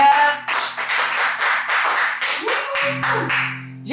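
Applause from a church congregation praising the Lord, steady clapping from many hands lasting several seconds, loud and close with brief dips in intensity.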